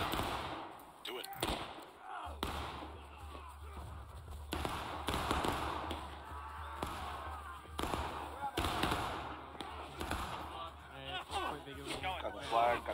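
Musket volley fired on command in the Civil War game War of Rights, with sharp bursts of gunfire ringing out amid shouting players and a steady low rumble throughout.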